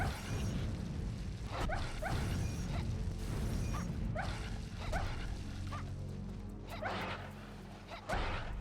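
Dogs in Castlevania 64 barking repeatedly in short sharp yaps over a busy game soundscape, several barks spaced across the stretch.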